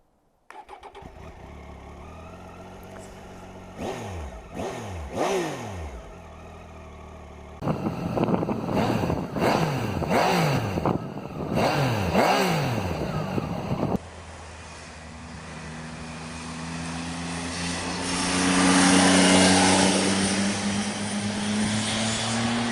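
Engine of a 2018 Triumph Tiger 800 XRT motorcycle, starting and revving in several sharp throttle blips with rising and falling pitch, then settling into a steady running drone that swells as the bike pulls away, close and loud.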